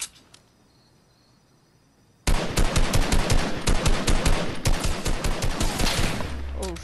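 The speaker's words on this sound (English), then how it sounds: "I have a feeling someone trying to snipe me." Rapid, loud gunfire from a sniper battle in Fortnite, a dense burst of shots starting abruptly after a quiet stretch and rattling on continuously to the end.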